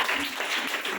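A congregation at a Hindi-language Christian church service claps together in a steady, dense burst of applause that fills the room, with no speech over it.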